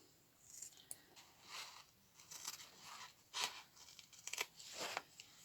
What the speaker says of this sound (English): let me try to cut it like this with my scissors